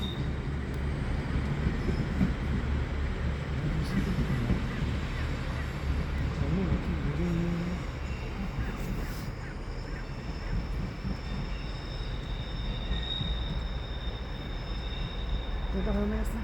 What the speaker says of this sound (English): And this is a train just left now.